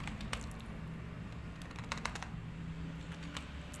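Someone types a name into an Excel sheet on a computer keyboard, producing a faint, steady patter of soft key clicks under a constant low hum, with no speech.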